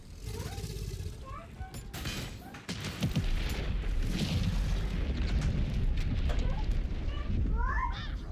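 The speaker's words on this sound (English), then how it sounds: "it might be wiser to just shoot the barrel." A barrel shot and blown up in Baldur's Gate 3, hitting several people: a sharp impact followed by a loud, rumbling explosion that roars on for several seconds amid game sounds.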